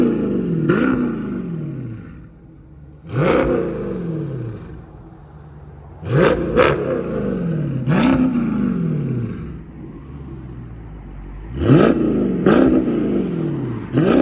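Dodge Challenger Scat Pack with a 6.4L V8 and aftermarket exhaust, revved in a series of deep roaring blips that swell and fall back to a rumbling idle, loud and close with no talk.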